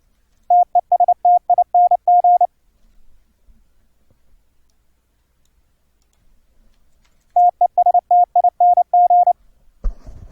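A Morse code keyer set to heavier weighting sends two bursts of steady, pure beeping tones, one near the start and one near the end. The beeps are clean and close, with near silence between the bursts and a brief rustle at the very end.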